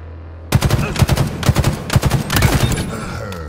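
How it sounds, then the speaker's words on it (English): Battle rifle gunfire in the Halo Infinite video game: rapid bursts of loud shots in quick rhythmic succession, close and dominant, with a brief low hum before the firing starts. "Right, battle rifle."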